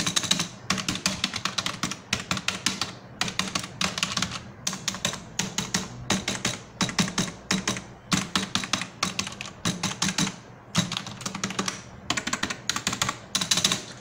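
Rapid, steady typing on an inexpensive Logitech mechanical keyboard, close and clicky, with bursts of keystrokes broken by brief pauses throughout, no voices.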